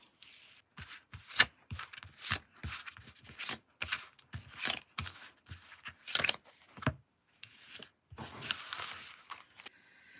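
Tarot cards being shuffled and drawn, a close series of quick papery riffles, slaps and slides in uneven bursts separated by short pauses, with no talk.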